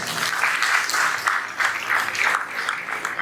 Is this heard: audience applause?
yes